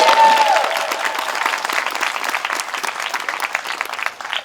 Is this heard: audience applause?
yes